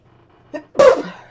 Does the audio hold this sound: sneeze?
yes